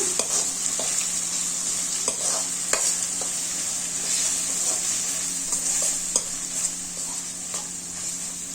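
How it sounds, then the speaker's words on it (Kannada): Masala with a few dried red chilies and chili powder is mixed in a sizzling pan of oil for dal palak, giving a steady frying hiss with scattered spoon scrapes and taps throughout. "ಇವಾಗ ಇದನ್ನು ಚೆನ್ನಾಗಿ ಮಿಕ್ಸ್ ಮಾಡ್ಕೊಳ್ಳೋಣ"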